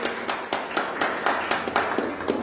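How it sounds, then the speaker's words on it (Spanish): A small audience claps after a poetry recital at a commemorative event for International Poetry Day. The applause is a thin, sparse and fairly even patter of hands, close by, with no talking over it. "un aplauso por esta poesía"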